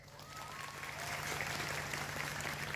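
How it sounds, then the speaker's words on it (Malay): Crowd at an outdoor Islamic religious gathering applauding, a broad swell of clapping that builds and holds steady, heard at a distance over a low persistent hum from a sound system. "Tepuk tangan untuk Forsisan."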